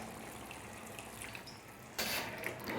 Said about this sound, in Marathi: त्याच्यामध्ये ना थोडंसं पाणी टाकायचं आहे, एक जवळपास अर्धा ग्लास.